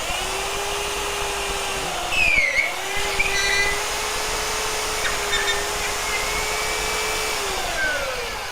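A bench-mounted belt sander runs steadily and alone, its motor drone holding a constant pitch with a brief dip partway through as the belt shifts before settling back.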